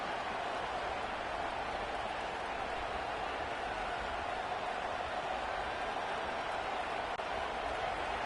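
A large stadium crowd in a college football video game, Purdue at Iowa, keeps up a steady, dense roar of cheering at even volume throughout, with no distinct voices standing out.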